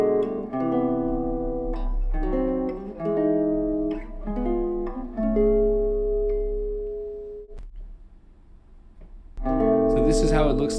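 Jazz guitar strumming minor 6th shell voicing chords, a series of ringing chords played one after another with sustained tones between, alone, with a final chord struck near the end.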